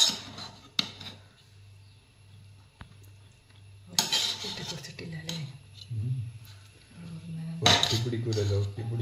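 A ladle scrapes and clanks through a pot of freshly unsealed dum-cooked ghee rice in two rough bursts of stirring, over a low steady hum, with a voice heard briefly between them.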